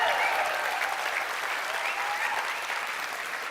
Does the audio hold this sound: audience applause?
yes